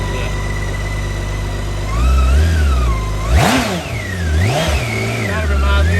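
A 2013 BMW K1600 GTL motorcycle with a six-cylinder engine hums steadily, then revs up in a couple of swelling bursts, with someone talking over the engine.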